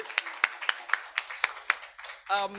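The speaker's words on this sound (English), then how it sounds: "So let's first clap for you guys." An audience at an African food systems panel session claps in a sparse, evenly spaced rhythm of distinct hand strikes close by, ending as a voice begins to speak.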